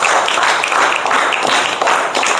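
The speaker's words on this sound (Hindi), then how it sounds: "एक बार पुनः जोरदार ताली बजाया जाए।" A brief burst of audience clapping follows a science magic demonstration with a candle and a glass of water, a dense, hissy wash of hands lasting about two seconds.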